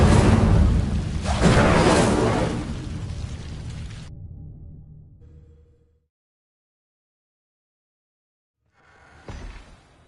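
A fiery spell blast from Hogwarts Legacy erupts loud and full for about four seconds, a roaring burst that fades to silence, followed near the end by a shorter second flare.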